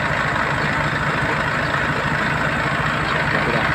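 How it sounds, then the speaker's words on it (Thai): A Thai-built combine harvester idles nearby, its engine putting out a steady, dense mechanical drone with a low throbbing hum that carries evenly through the whole stretch, no voices over it. "อันนี้รถเกี่ยวครับ มีรถเกี่ยว จะเดินทางกลับนะครับ"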